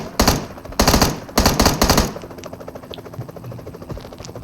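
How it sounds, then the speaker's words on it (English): Bursts of automatic gunfire in the mobile battle-royale game PUBG Mobile, with a helicopter flying overhead: several loud rapid volleys in the first two seconds, then a steady lower engine drone with scattered faint pops. "Ahí anda uno, un helicóptero arriba."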